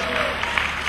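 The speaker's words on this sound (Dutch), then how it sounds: "Kijk eens aan, van de applaus" Audience applause during a handover ceremony, a loud, dense spatter of clapping held steady through a brief moment.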